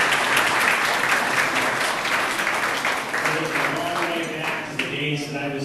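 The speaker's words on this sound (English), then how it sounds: "There's the applause." Audience applause at an evening event in a new college building, a continuous, full wash of clapping that holds steady, with some voices mixed in near the end.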